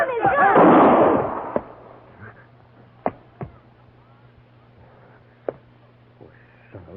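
A gunshot sound effect in an old-time Western radio drama: one loud burst at the start, then several sharp, brief cracks spaced a few seconds apart over a faint background hum.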